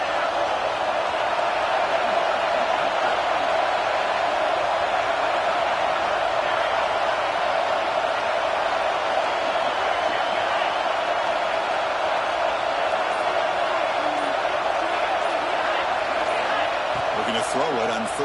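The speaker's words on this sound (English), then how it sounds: "the crowd coming to life here, trying to help this defense down in the red zone" A packed college football stadium crowd at a Texas vs. Texas A&M game roars steadily and loudly for the defense in the red zone, a dense, unbroken wall of cheering that holds for the whole stretch.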